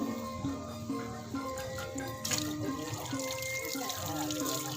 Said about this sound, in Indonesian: nanti akan kita siram dengan air seperti ini